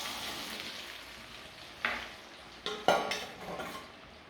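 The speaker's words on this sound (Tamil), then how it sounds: "நல்லெண்ணெயில் மாங்காவை ஆட் பண்ணிக்கலாம்" Mango pieces fry in sesame oil for an instant mango pickle: a soft, quiet sizzle broken by a few brief utensil clinks and scrapes against the pan, with no talking.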